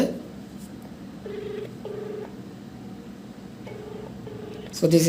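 A telephone call placed to a GSM module rings back as evenly spaced, moderately loud tone bursts, repeating in pairs over a low background hum, with a brief louder sound at the end.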